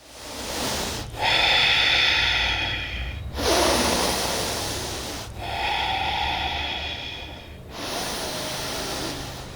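Four forceful, exaggerated nasal breaths from a yoga pranayama practice alternate in and out, loud, harsh and close, each lasting a couple of seconds.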